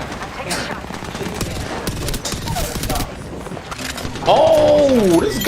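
Rapid bursts of gunfire in the video game Fortnite, crackling and dense throughout, mixed with game effects and a rising tonal sound near the end, while a voice talks over it.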